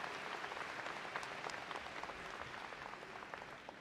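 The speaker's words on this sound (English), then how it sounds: "let's give him one more round of applause" Audience applause at a college graduation ceremony, a steady dense patter of many hands clapping, moderately distant in a large hall, slowly tapering toward the end.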